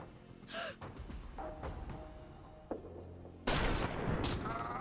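A strong rifle in a tactical roguelite video game cracks out a loud shot, then a denser burst of gunfire with a sharp onset follows, all over a busy game soundscape.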